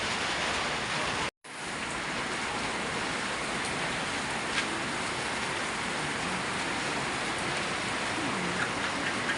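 Steady, dense rain pours down continuously, a broad hiss of drops hitting surfaces, with a brief dropout near the start.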